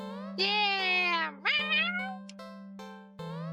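A cat eagerly meows up close: one long, loud, wavering meow, then a shorter rising one and a few quieter chirps, over a steady low electrical hum.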